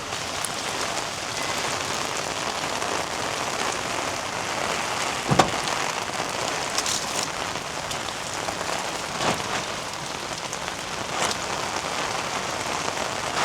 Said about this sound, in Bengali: ভালো বৃষ্টি হচ্ছে, জোরে জোরে হইতেছে বৃষ্টি